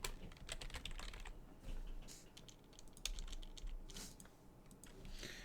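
Typing on a computer keyboard, a quick irregular run of close, crisp key clicks with short pauses between bursts, no talking.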